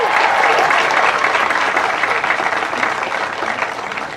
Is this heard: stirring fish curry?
no